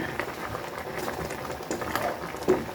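Crabs boil in a pot of coconut milk, giving a continuous close bubbling and popping patter with small irregular pops throughout, no voices.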